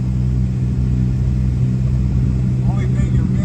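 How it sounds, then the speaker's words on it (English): A 1989 Cadillac DeVille engine idles and runs with a steady low rumble close by, while voices talk over it throughout. "You start her up, she purrs like a tomcat in a cat house."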